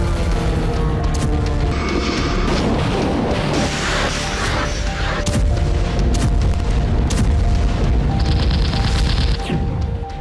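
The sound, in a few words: explosions from Russian missile strikes on Kharkiv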